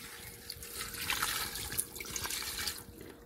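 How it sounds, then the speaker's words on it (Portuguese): Water pours steadily into a cooking pot while beef rolls are being prepared, a continuous close splashing rush with no talk. "agora é só colocar água, né? Então, eu coloco a água."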